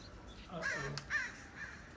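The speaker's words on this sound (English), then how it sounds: "I scared the crow." A crow near a balcony bonsai garden of black pines gives a few hoarse caws in a short series. A person talks quietly alongside the calls.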